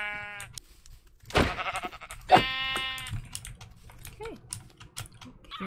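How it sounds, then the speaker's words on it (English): Minecraft sheep bleat in a couple of wavering cries amid steady keyboard typing and clicks, with a low background hum throughout. "I heard a sheep."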